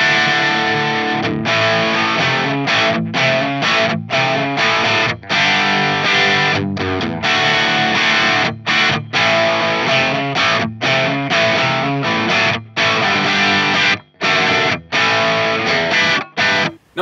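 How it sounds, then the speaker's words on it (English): Heavily distorted electric guitar, a 355 replica through a Marshall Vintage Modern with a greenback cab impulse, riffing loud and up close, dense chugging chords cut by short rhythmic stops, with a tight, boxy speaker-cabinet tone. "I'm playing a 355 replica into a Marshall Vintage Modern"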